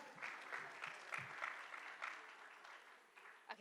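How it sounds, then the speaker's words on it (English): A small group at a business conference claps briefly and faintly, scattered hand claps tapering off toward the end. "A big round of applause."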